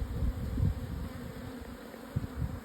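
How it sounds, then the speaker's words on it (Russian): Honeybees hum steadily at a warm, sunny apiary, a dense continuous buzz with occasional louder passes of single bees close by. "Солнышко и пасека загудела."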